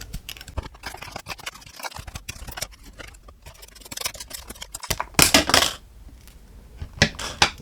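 Scissors cut open thick plastic toy packaging, giving crackling, snipping and crinkling noises with scattered sharp bursts, close up and loud.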